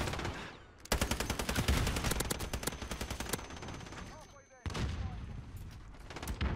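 Rapid bursts of light machine gun fire from the FiNN LMG in Modern Warfare, loud and close, with a brief pause before firing resumes in sustained automatic strings.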